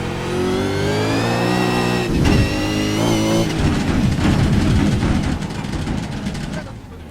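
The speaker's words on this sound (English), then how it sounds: "So the sounds, the backfires that you heard there, so coming off the throttle there at the end, going down the gears" V8 Supercar engine in iRacing, revving loud and close with a rising then steady pitch, then breaking into a dense run of crackling backfire pops as the throttle lifts and it shifts down through the gears.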